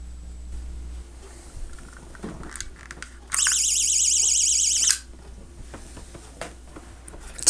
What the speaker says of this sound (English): Assuming that the alarm actually goes off when they do have one.